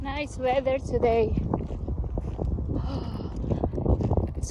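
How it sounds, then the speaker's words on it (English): Wind gusts buffet the microphone outdoors during a nature walk, a steady low rumbling roar with a voice and a voice speaking over it. "It's windy."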